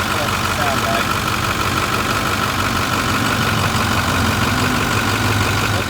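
A Ford 6.4 Powerstroke diesel pickup truck idles steadily for several seconds, a loud, close, continuous low rumble with a faint mechanical clatter, with no voices.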